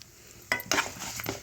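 Dried red chillies frying in a pan with mustard seeds, fenugreek and sesame for gongura green-chilli chutney, heard as a few close stirring scrapes and soft sizzles after a quiet start.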